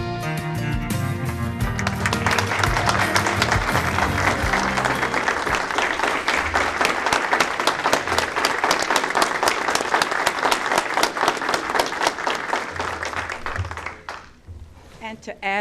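Sustained applause from the audience at a county education department board meeting, many hands clapping loudly and steadily for over ten seconds before tapering off, with some voices briefly at the start.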